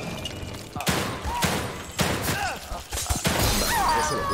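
Several bursts of gunfire from the survival horror game The Evil Within 2, sharp and loud, arriving in uneven clusters with crashing, shattering effects and game sounds between them.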